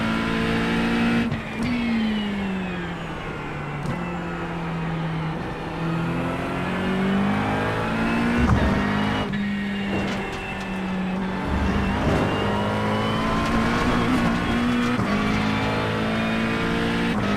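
A GT3 race car engine in the iRacing sim roars steadily and loudly, its pitch climbing and dropping through gear changes with brief lifts, alone without talk.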